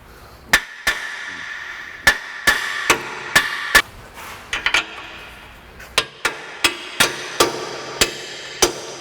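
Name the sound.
hammer tapping Ford Explorer rear axle into position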